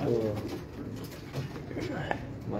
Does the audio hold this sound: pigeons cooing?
yes